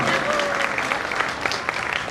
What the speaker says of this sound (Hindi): एक बार जोरदार तालियां जरा अपने लिए बजा दें आप।